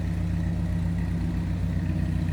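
A 1949 Willys Jeepster's 2.2 liter engine idles steadily with a low, even rumble and regular pulsing, heard up close from the rear with a complete exhaust and no catalytic converter, no voices.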